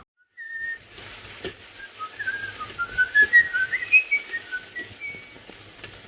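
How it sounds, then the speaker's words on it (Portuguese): A criminal's whistled melody from the film M, a clear tune of rising and falling notes carried over a faint low background hum, with no talk over it. "A melodia assobiada pelo criminoso acaba sendo crucial para a trama."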